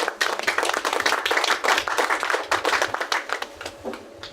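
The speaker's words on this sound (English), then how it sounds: "Another round of applause." A small audience at an award ceremony gives a round of applause, with distinct, close hand claps in a lively, uneven patter that stays loud and then thins toward the end.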